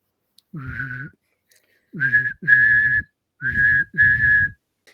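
A person whistles five short, wavering tones in an irregular rhythm, clear and close, with quiet gaps between them.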